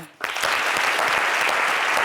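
A television show's studio audience bursts into loud applause after a brief quiet moment, the dense clapping rising quickly and holding steady to the end.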